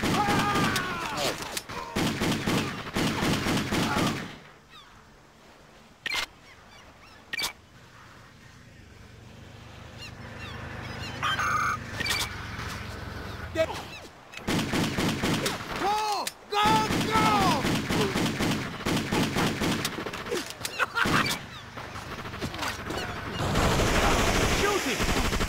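Gunfire in the video game Just Cause during a prison break: dense rapid volleys of shots in loud bursts, broken by quieter stretches with mechanical noise and voices.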